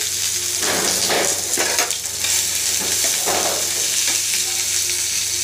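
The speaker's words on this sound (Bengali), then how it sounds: "রসুন বড় এক কোয়া, একটা পেঁয়াজ, দুটো পেঁয়াজ দিয়ে দেবো এর মধ্যে, ভেজে নেবো হালকা করে" Garlic and onion frying lightly in a pan, a dense continuous sizzle with occasional scraping and stirring bursts, close and fairly loud with a low steady hum beneath.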